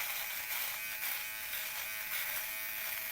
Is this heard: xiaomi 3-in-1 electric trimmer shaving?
yes